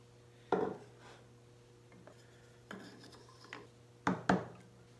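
Hand-plane test strokes with a freshly sharpened blade in an upcycled coffin smoother on wood: four or five separate rasping swipes, the last two close together, each short and fairly loud against a steady low hum.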